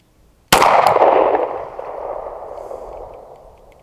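A single sharp PSA Dagger pistol shot fired at about 18 yards cracks loudly up close, followed by a long ringing decay of echo fading over several seconds.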